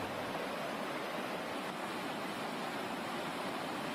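Flood water of the Kim river in Surat rushes over a submerged low-level causeway near Shethi village in rainy weather, a steady broadband roar with no voices.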